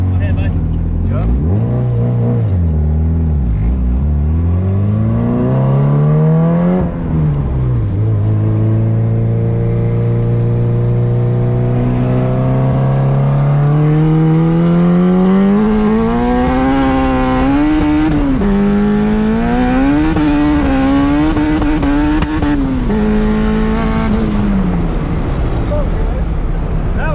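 A hatchback at Bremerton Raceway revs hard with its tires spinning on a damp track, the engine note sweeping up and down in long, loud climbs close by, with voices talking over it.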